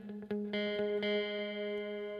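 Lead guitar fill from a song, a few picked notes that ring out into a sustained, slightly effected chord, played alone and fairly close.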